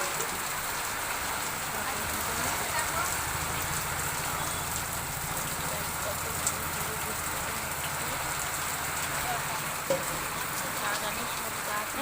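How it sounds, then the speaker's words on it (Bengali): Heavy rain pours steadily since dawn onto a garden in a dense, constant hiss, close and unbroken for the whole stretch with no voices. "সকাল থেকে ফুল বৃষ্টি হচ্ছে"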